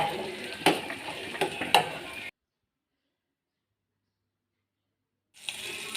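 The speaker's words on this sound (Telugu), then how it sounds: "అల్లం వెల్లుల్లి పేస్ట్ పచ్చివాసన పోయేంత వరకు కలుపుకోవాలి" Ginger garlic paste fries in a pan while being stirred, giving a soft sizzle with a few sharp scraping taps. It cuts to silence for about three seconds, then the sizzle resumes.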